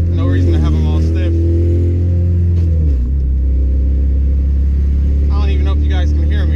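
A 300-horsepower Volkswagen engine with an open header drives along, giving a loud, steady low rumble throughout with rising engine tones near the start.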